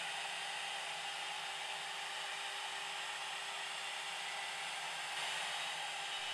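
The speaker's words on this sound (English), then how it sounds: "Now the machine's going to create the electronics cavity pocket." A Benchtop PRO CNC machine mills the electronics cavity pocket in a 3D sculpted guitar body, giving a steady, even, high whirring hiss that runs unbroken throughout with no voices.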